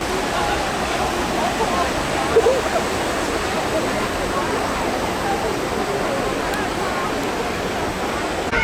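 Water rushes and splashes steadily on the Viking River Splash flume ride at Legoland Billund, a dense continuous hiss with a brief faint voice partway through.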